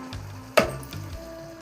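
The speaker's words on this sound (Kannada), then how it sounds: "ಒಂದು ಟೊಮೊಟೊ ಕಟ್ ಮಾಡ್ಕೊಂಡಿದ್ದೆ, ಟೊಮೊಟೊ ಹಾಕ್ತಾ ಇದ್ದೀನಿ." Cut tomato dropped into a hot pan for a ridge gourd milk gravy gives a sudden loud sizzling burst, then quieter frying and stirring sounds fade behind it.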